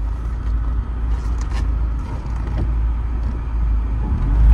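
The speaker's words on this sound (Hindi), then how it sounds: "बात करते करते ही गाड़ी लगा दूंगा बैक करके पार्किंग में।" A car reverses into a parking spot near an Airbnb outside town in the West Indies, its engine giving a steady low rumble that swells slightly at the end, with no talk.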